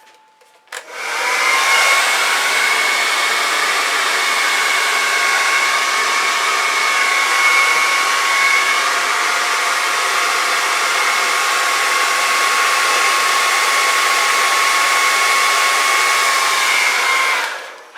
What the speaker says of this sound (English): I just want to keep adding colors and playing with the blow dryer.